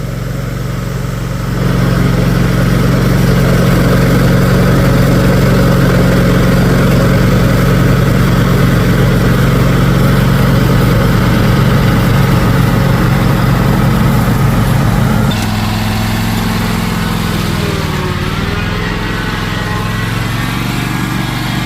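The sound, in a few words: lawn mower engine running while mowing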